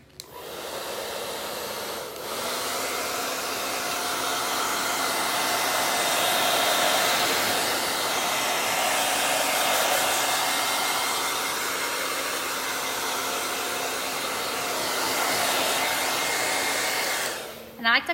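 Hair dryer blows steadily to dry paint on a sign, a continuous close whooshing roar that switches on at the start and clicks off at the end.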